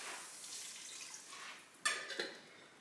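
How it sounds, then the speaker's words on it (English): Chicken broth pours into a pan with butter and rehydrating freeze-dried onions, a soft watery hiss and trickle up close, then a couple of splashy clinks as it lands. "I'm going to add a little bit more butter and some chicken broth"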